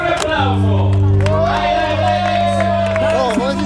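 At a live Pivirama trio show at Palermo Pride, an audience cheers, whoops and shouts loudly over lingering sustained tones, a dense crowd roar filling the whole stretch.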